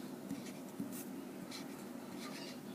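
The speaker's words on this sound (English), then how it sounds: "I am going to write my name." Pencil scratches lightly across paper as a name is written, faint, short strokes over a steady low hum.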